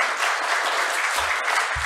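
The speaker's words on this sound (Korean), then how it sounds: "큰 박수로 환영해 주시기 바랍니다." A crowd claps steadily and warmly indoors at a seminar welcoming a lecturer, a dense, even wash of applause without pause.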